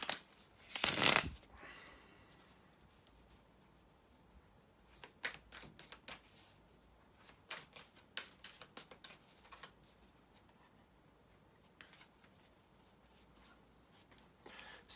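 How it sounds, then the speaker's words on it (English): A brief loud rustle opens, then soft clusters of tarot-card shuffling riffles come and go quietly, separated by near-silent pauses. "bear with me a second, guys, to shuffle the tarot cards"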